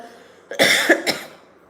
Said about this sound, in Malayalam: ചുമയാണ് കേട്ടോ